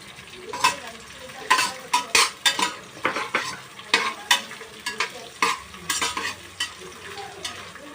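Vegetables with beans, mint and coriander sizzling in oil with cloves for vegetable pulao, a ladle scraping and clanking against the pot in repeated sharp strokes over a constant fry hiss.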